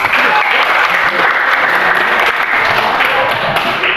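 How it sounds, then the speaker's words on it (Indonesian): Students in an Indonesian classroom clap together in steady, dense applause that holds at an even, fairly loud level throughout, with no talking over it. "Tepuk tangan."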